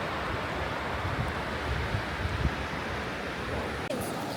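Sea waves breaking on the beach at Mandarmani in the morning, a continuous broad wash of surf mixed with wind noise, steady and fairly loud throughout with no talk.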